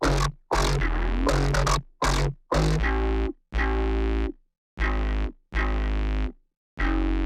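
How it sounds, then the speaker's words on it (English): Synth bass layered with sub bass and squeezed by a limiter in compression mode, from a dance track drop, plays as a series of loud, distorted sustained notes in choppy bursts separated by short silences. "So that's all of the bass in this section of the track."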